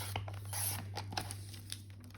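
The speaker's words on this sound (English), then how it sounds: "So I am going to cut just on this line right here." Scissors cutting paper for a Christmas junk journal, a steady run of soft, close snips and paper rustle over a low background hum, no talking.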